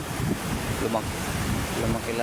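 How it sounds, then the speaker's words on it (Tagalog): Ocean waves surge around a pumpboat out at sea, a continuous loud wash of surf mixed with heavy wind noise buffeting the microphone, with no clear speech. "lumaki lalo yung alon."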